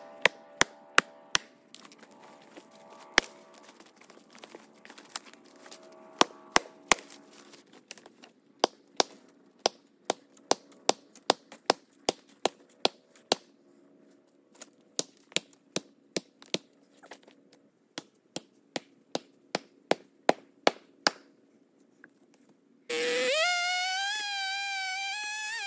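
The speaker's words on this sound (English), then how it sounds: "So I'm gonna try to split them in half with an axe." Axe blows split big firewood logs outdoors: a long series of sharp, loud wooden cracks and thunks at irregular intervals, some in quick pairs, followed near the end by a different steady mechanical whine.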